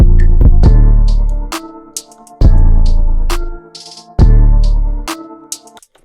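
A hip-hop beat's sample shifts into a sparser verse section, with three heavy bass-and-sample hits that each sustain and then cut off, separated by brief quieter gaps.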